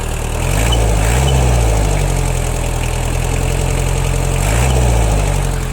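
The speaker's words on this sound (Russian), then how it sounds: "Мотор работает очень и очень ровно." A Japanese mini tractor engine idles steadily and evenly at close range, a constant low throbbing hum with a couple of brief rises and falls in pitch.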